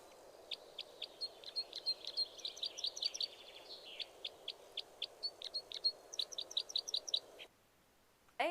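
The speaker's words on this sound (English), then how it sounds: "They also have a very sharp metallic call note." Crossbill at Bluff Lake near Big Bear Lake giving a rapid series of sharp, metallic call notes, dozens of short bright chips in irregular bursts, fairly close, before falling quiet near the end.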